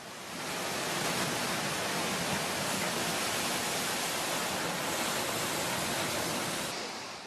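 Churning seawater from the December 26, 2004 tsunami surging inland and flooding the shore, a dense, steady roar of rushing water filling the whole clip at constant loudness, easing slightly at the very end.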